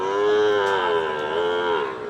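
A chocolate-coloured Sahiwal calf at a cattle market gives one long, loud, close moo that wavers in pitch and holds for about two seconds, with no talk over it.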